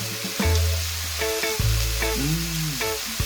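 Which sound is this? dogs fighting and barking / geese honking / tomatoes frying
tomatoes frying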